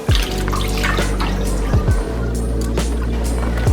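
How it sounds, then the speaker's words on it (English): Chitterlings being shifted with water from one kitchen sink into another give continuous splashing and sloshing, with a few brief drips and knocks, fairly close and steady throughout. "I'm going to put these in the other sink."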